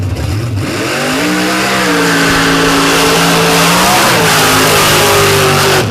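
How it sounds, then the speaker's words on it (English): A 1946 Chevy drag car with a blown, injected big-block Chevy engine revs loudly and close, its deep rumble rising and falling through several throttle blips at the track. "46 Chevy with a blown and injected big block Chevy."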